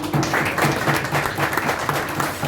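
An audience applauds at a prize distribution ceremony in London, a steady dense clapping from many hands that holds at a strong, even level throughout.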